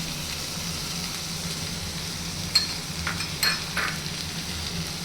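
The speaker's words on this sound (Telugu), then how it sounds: "బాగా మిక్స్ చేసి" Onions, tomato, salt and turmeric sizzle and fry in a pan for an egg fry, a steady close crackling hiss broken by a few brief scraping stirs of a spoon, with no voices.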